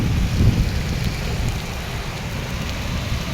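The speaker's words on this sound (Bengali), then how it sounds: "কি বৃষ্টি রে ভাই," Heavy rain pours steadily and close by, a dense, continuous hiss with low rumbling underneath and no voices.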